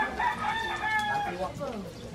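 Chickens cluck and a rooster-like crow rises briefly, close by, with a few overlapping calls over a short stretch.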